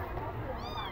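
A small rescued kitten gives a short, faint meow over steady background noise while a person talks close by.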